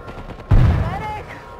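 A loud explosion bursts in the World War Z video game, a heavy boom that rumbles and fades over about a second.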